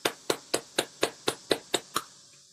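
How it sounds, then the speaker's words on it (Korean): Nine sharp, evenly spaced claps ring out at a steady beat, close and clear, welcoming a guest speaker onto the stage of a Korean business talk, then fade into a quiet room. "이지연 사장님을 큰, 네, 함성 박수로 제가 모시겠습니다"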